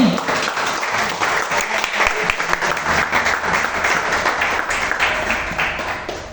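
A church congregation gives a strong round of applause during a worship service, continuous dense clapping that holds steady and fades slightly at the end.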